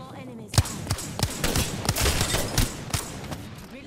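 Wingman pistol shots fire in a video game, a quick irregular series of about ten sharp cracks over loud background game noise, close and punchy.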